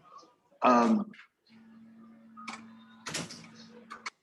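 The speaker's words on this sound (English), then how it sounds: "I hear your door opening. Yes. And closing." A door opens and closes somewhere in a room, heard as a creak followed by thuds and a click, moderately close, with a steady hum and brief voices in the background.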